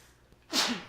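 One abrupt, forceful sneeze erupts nearby out of near silence, a loud airy burst that fades quickly.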